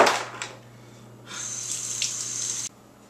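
Running tap water rinsing a pork belly in a sink, a steady close splashing stream for over a second that stops abruptly, after a brief earlier spurt.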